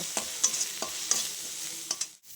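Mustard leaf paste cooks down in a pan, giving soft steady sizzling and bubbling. Light spoon strokes scrape and tap at irregular intervals, close up, with no talking.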